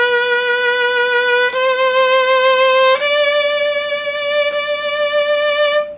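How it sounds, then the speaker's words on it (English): A violin holds sustained bowed notes with wide arm vibrato, stepping up in pitch a few times. It is played close and loud, alone without speech. "arm vibrato, which means the whole arm sounds something like this."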